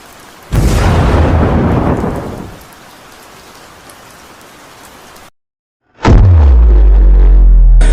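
Heavy rain from a thunderstorm swells into a loud, close downpour, eases to a steady hiss, cuts out briefly, then a deep, booming thunderclap rolls in near the end. No voices are heard.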